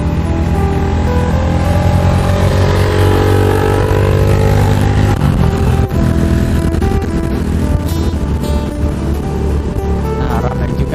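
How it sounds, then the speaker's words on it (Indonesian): Motorcycles ride past on the winding hill road of Bukit Vandaring in West Kalimantan, their engines droning loudly and continuously nearby, with a rising and falling tone as they pass. "ramai juga yang lagi memakai motor melewati Bukit Vandaring"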